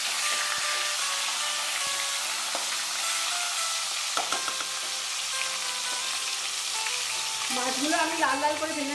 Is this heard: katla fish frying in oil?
yes